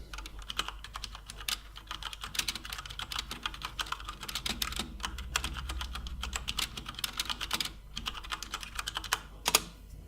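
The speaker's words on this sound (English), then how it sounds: "this is me typing a sentence on the keyboard" Rapid, uneven clicking of keys being typed on a Corsair Vengeance K64 mechanical keyboard, close and steady for the whole stretch, with a faint low hum underneath.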